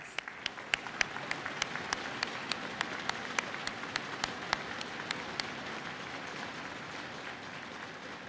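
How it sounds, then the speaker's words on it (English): A college convocation audience claps for support staff, with sharp distinct hand claps over a steady, moderately distant wash of applause. "Let's give them an applause."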